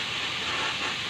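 A pressure cooker vents a steady, loud hiss of steam while native chicken cooks inside, a continuous broadband rush with no pauses, alone without talk.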